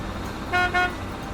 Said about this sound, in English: Now the big truck is moving again.